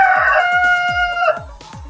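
A rooster crows loudly and close by in one long, drawn-out call, with a series of regular low thumps sounding underneath it.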